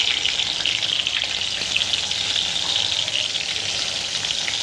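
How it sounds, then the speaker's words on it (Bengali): Brinjal slices frying in a home kitchen pan, giving a steady, close sizzle and crackle of hot oil that holds evenly throughout with no voices. "এই যে বেগুন ভাজি করতেছি"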